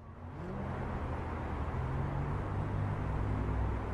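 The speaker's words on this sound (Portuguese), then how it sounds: "Se liga no ruído de trânsito que eu vou reproduzir agora aqui no escritório" Steady roar of recorded road traffic played back in an office, a constant broadband wash with low engine drone and no clear breaks.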